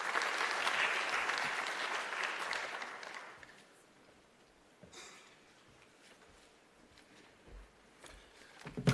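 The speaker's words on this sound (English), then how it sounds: "Let's give Lennon Munyai a round of applause as they're coming on stage." An audience at a youth trade convention claps as speakers walk on stage, with applause strong for about three seconds, then quickly fading into quiet room noise with scattered small sounds.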